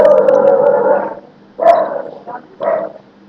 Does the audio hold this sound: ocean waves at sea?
no